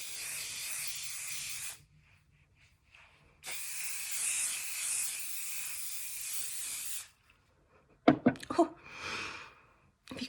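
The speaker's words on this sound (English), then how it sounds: "if you can't taste the hairspray, you're not wearing enough" Hairspray is sprayed in two long, fairly close hissing bursts separated by a quiet gap, followed by a short flurry of clicks and breathy noises.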